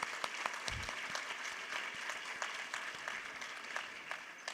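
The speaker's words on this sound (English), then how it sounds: "yes, they do deserve a huge round of applause." Audience applause at an international conference of chief justices, steady clapping from a large hall crowd held at an even level throughout.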